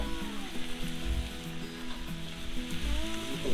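Mushrooms fry on a 36-inch Blackstone griddle, giving a steady, loud sizzle with light crackle that runs throughout under background music.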